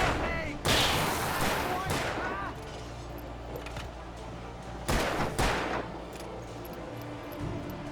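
Gunfire bursts from the video game Alan Wake, with sharp shots near 0.7, 1.9 and 4.9 to 5.5 seconds over a dark ambient background, while a voice speaks at times.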